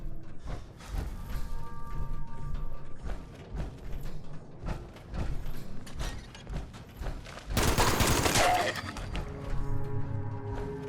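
A gun goes off by accident in the video game Fallout 76. It is one loud, broad burst that lasts nearly a second, set among clanking mechanical game sounds and short thuds.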